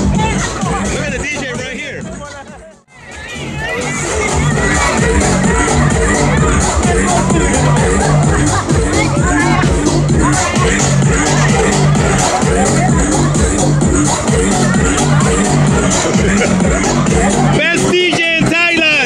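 A dense party crowd at a nightspot in Pattaya, Thailand, steady loud hubbub of many voices with music underneath, briefly dipping before surging back and continuing without pause.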